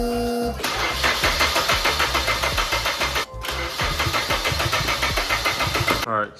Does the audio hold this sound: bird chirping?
no